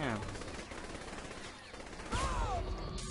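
Gunfire in the open-world game Saints Row 3 rattles steadily through the whole stretch, with a brief sweeping tone near the end as the shooting continues.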